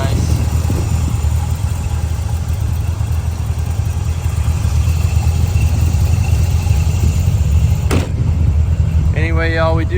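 A 1968 Chevrolet Corvette Convertible engine idles with a steady low rumble, a brief knock partway through and a short high whine near the end.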